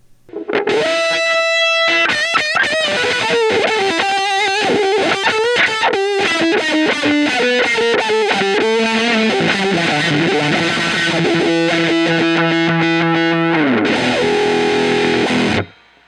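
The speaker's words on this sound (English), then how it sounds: "you can get a huge sweep from your wah" Electric guitar run through a wah pedal ahead of a fuzz, playing a distorted line while the wah sweeps the tone open and closed, loud and continuous with sustained held notes near the end and no talking.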